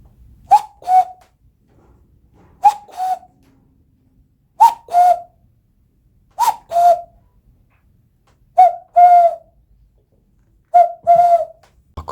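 Cuckoo call imitated by a man blowing into cupped hands, opening and closing them: six paired two-note hoots, each a sharp higher note then a lower one, evenly spaced, loud and close with nothing else heard.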